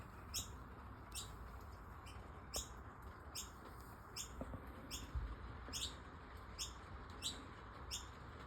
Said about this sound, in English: as you can hear, right outside our window, they don't call them noisy minor birds for nothing